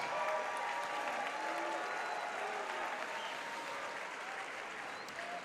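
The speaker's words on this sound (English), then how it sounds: "Let's give a great round of applause once again to these 12 semifinalists." A live ballroom audience applauds twelve professional International Latin semifinalists, steady dense clapping filling the hall at an even level throughout, with faint crowd murmur beneath.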